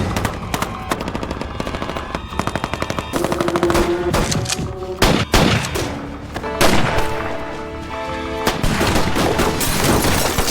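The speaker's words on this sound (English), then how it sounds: "the assassins had returned with a submachine gun" Rapid submachine gun bursts rattle out again and again over a loud, dramatic music bed, the volleys dense and close during a gang's armed assault on a family farm.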